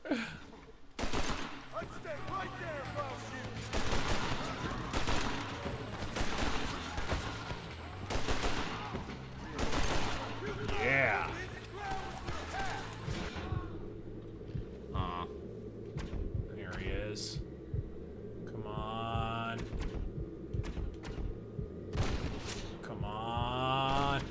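Mauser gunfire in the video game Red Dead Redemption rings out as repeated sharp shots and volleys over a steady game soundscape, with people talking intermittently.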